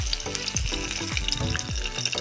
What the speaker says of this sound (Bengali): দিয়ে দিচ্ছি এলাচ আর দারুচিনি, আর একটা তেজপাতা